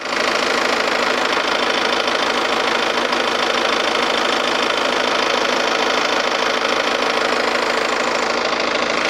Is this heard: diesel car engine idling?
yes